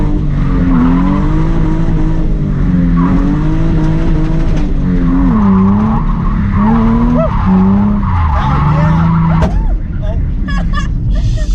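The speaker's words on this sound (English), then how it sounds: "We did a tire. I blew a tire." A drifting car skids hard with loud wavering tire squeal over a constant engine roar, ending in a sharp burst near the end that fits a blown tire, while people talk and shout in the car.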